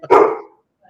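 A dog gives one loud, close bark that trails off quickly, followed by a faint quieter sound near the end.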